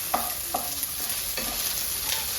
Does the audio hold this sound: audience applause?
no